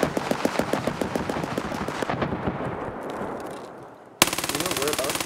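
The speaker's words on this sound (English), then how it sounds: "that's a lot of gunshots" Rapid bursts of automatic gunfire in the video game Escape from Tarkov rattle continuously, thinning out before a sudden loud resumption of dense, crackling shots near the end.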